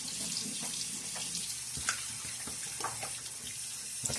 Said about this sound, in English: And there we go, a little splash of water.